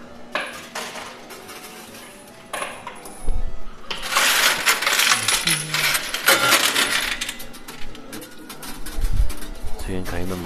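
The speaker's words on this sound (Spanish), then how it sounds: "Siguen cayendo monedas." Coins spill and clatter in an arcade coin pusher game, a dense burst of metallic jingling and clinking that swells and continues in waves, with voices nearby.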